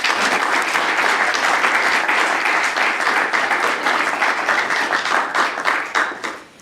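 Sustained applause from a lecture audience welcoming a law professor, a dense even wash of many hands clapping that carries steadily for several seconds before tapering off at the end.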